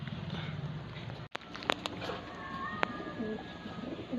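A checkered pigeon at a loft in Balanga, Bataan, gives soft, close, low cooing. A sharp knock and a few faint clicks sound nearby, and there is no clear talking.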